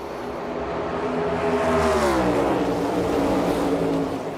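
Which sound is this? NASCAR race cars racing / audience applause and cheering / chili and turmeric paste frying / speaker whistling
NASCAR race cars racing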